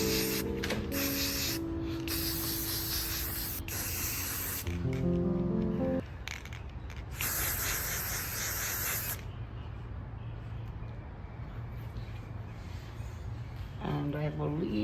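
Spray paint hissing onto a thrifted cat decor figure in short close bursts of varying length, with gaps between them, while a voice talks over and between the sprays.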